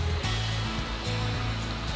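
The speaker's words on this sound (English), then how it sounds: "you can see the waterfall that runs next to the property" A waterfall running beside a treetop dome resort produces a steady, loud broadband rush throughout, with a low hum layered underneath it.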